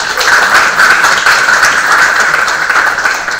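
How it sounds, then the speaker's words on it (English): Audience applause fills a debate hall during a student public debate event, a dense and steady burst of many hands clapping at close range that lasts throughout. "a huge round of applause."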